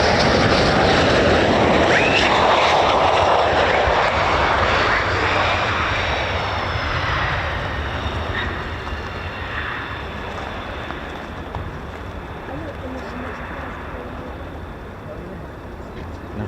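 A US Air Force military jet approaches to land at RAF Lakenheath, a loud roaring engine whine that gradually fades as it passes, with a voice talking over it.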